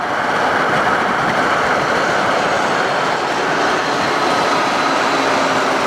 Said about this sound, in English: there's a train going uphill